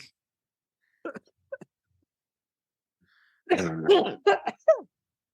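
A person coughs and clears their throat in short, close bursts, with brief silences between a couple of small coughs and a longer fit.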